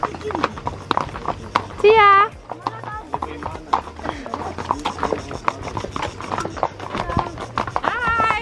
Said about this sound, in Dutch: Ik zit op een paard.